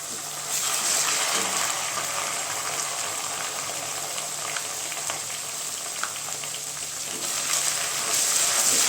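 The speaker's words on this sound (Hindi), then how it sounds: "कच्चापन जाने तक इसे फ्राई कर लेंगे हम।" Steady sizzling and crackling of onions frying with ginger-garlic paste in a hot pan, with occasional stirring scrapes, continuous and fairly close.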